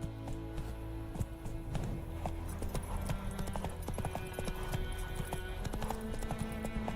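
Horse hooves clip-clop steadily in The Witcher 3, a rhythmic run of close, distinct footfalls over continuous game music and ambience.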